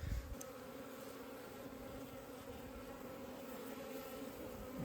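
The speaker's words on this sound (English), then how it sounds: "That's a box of bees right there." Northern Minnesota honeybees in a hive box give off a steady, faint, even buzzing drone that continues without a break.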